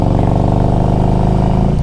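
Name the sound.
Harley-Davidson Electra Glide Ultra Classic motorcycle engine running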